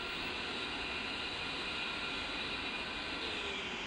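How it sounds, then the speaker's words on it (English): Both engines of an A-10C jet idle on the ground after start-up in the DCS World flight simulator, producing a continuous, even turbine roar and whine with no change in pitch. "With both engines now running and powering the left and right AC generators"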